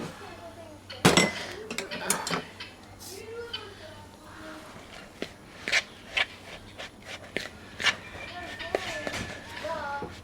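Ghee is stirred through breadcrumbs in a bowl, giving soft scraping and rubbing with scattered light clinks of a utensil against the bowl, close and fairly quiet.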